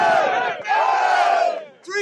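Members of the Bangor Mud Dogs university American football team shout a loud, unified hooray answering a hip-hip call, one sustained massed yell of about a second and a half, a brief fresh cry starting at the end.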